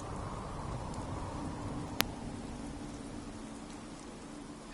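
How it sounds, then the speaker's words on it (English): Steady rain falls in a broad, continuous wash, even and close, with a single sharp click partway through and no talking. "I awaken, it's raining."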